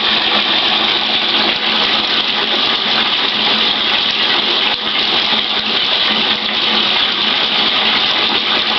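Water pours steadily from a tap into a bathtub with a slow-draining new drain, a loud continuous rushing gush that stays even from start to finish, close by with no talking.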